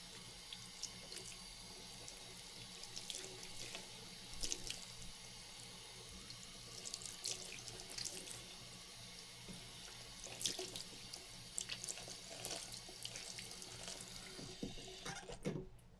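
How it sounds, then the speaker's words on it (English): Tap water running steadily into a sink while a vintage 1990s troll doll's hair is rinsed, a constant close splashing stream with slight shifts as the hair passes under it. "And I might do another rinse of his hair."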